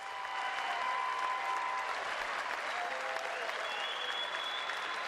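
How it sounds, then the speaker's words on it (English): A boxing crowd applauds both fighters after a pro bout on a televised card, before the scorecards are read: steady, broad clapping that holds evenly throughout, with faint tones and a murmur of voices underneath. "let's give both of these fighters a big round of applause"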